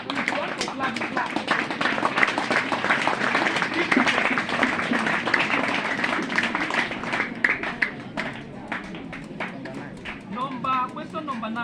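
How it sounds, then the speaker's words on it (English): A classroom quiz audience breaks into lively applause that lasts several seconds. Some clappers are louder than others and many claps overlap, and the clapping thins out toward the end as a voice speaks over it. "Round of applause for them. If you want to clap, clap."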